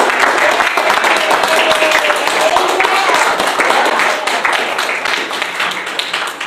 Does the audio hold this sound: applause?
yes